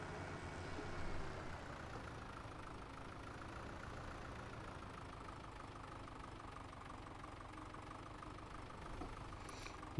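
A tractor engine idles in Farming Simulator 17, a steady mid-low rumble that continues unchanged throughout with no speech.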